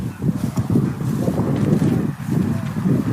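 Gusty wind buffets the microphone in a continuous low rumble at an outdoor model rocket launch field, rising and falling without pause, with no other clear sounds.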